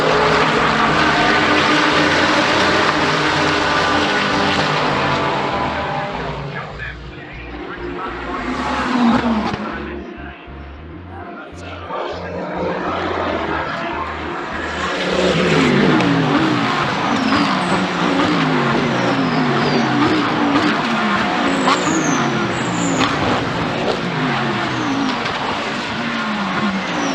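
GT3 race cars roar off the line at a race start at Brands Hatch, a loud dense wall of revving engines that thins as the pack pulls away, then swells again as more cars pass close by.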